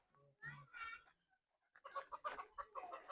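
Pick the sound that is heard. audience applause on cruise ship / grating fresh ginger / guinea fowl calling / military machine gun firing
guinea fowl calling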